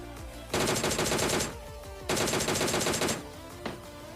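Rapid automatic gunfire in a solo-versus-squad shooter game finishing off enemies, two long sustained bursts of loud machine-gun fire with a short gap between, plus a single sharp shot near the end, no talk.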